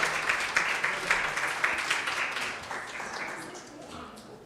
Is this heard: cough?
no